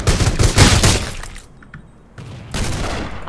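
A Thompson submachine gun fires in Rules of Survival, sounding as a loud rapid burst of automatic shots, then a short quieter gap, then another burst.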